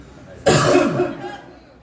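A single harsh cough close to the listener, lasting under a second, with a brief quiet before it.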